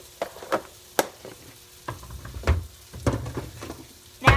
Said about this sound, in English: So the butter is cooking up these onions.